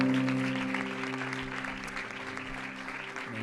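Church congregation claps together in praise, a steady wash of applause over a sustained organ or keyboard chord that carries underneath the whole time.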